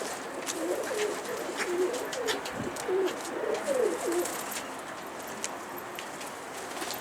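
Pigeons cooing in soft repeated phrases over steady outdoor background noise, with faint patter nearby.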